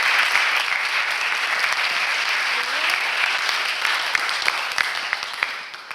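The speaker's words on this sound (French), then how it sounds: "Vous pouvez applaudir nos intervenants." Sustained applause from a conference audience after a panel on autonomous vehicles, dense and steady clapping filling the whole stretch without letup.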